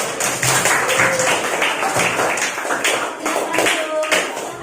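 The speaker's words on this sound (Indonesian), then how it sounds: "Kita tepuk tangan untuk kelompok 2." Classroom clapping for a student group, a burst of many hands clapping in quick uneven rhythm, mixed with voices talking in the room.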